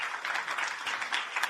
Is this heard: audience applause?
yes